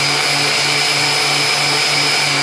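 A 3D printed two-stage regenerative supercharger runs at 9,000 RPM, giving a loud, steady, high-pitched whine with a constant tonal hum, close and unbroken throughout.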